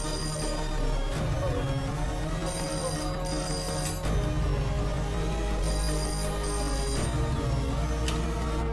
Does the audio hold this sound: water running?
no